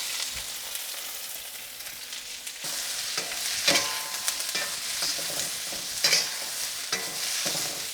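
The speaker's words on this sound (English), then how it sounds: "I'm just gonna stir fry this for a minute over high heat" Asparagus stir-fries in hot oil in a smoking wok over high heat, a loud, steady sizzle broken by bursts of tossing and stirring scrapes, close up, with no talking.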